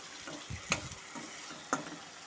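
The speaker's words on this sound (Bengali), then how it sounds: "ধনেপাতাটা এখন সমস্ত মশলার সাথে ভালো মতো করে মিশিয়ে নিয়ে একটু কষে নেব" Coriander leaf and green chilli paste stir-fried with spices in a pan over medium heat for a small-fish curry, giving a quiet sizzle broken by a few sharp scrapes of the spoon against the pan.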